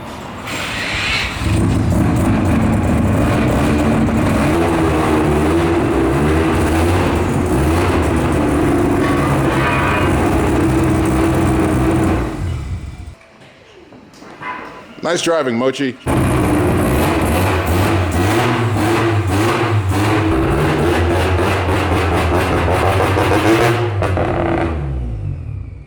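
A Mazda RX-7 drift car being driven into a workshop, loud steady engine drone throughout with a brief dip midway, voices talking over it.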